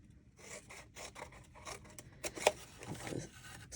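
Paper being cut along a score line for an Easter treat box, heard as soft close rasping and rubbing strokes with a few sharper snips near the middle, quiet and with no talk.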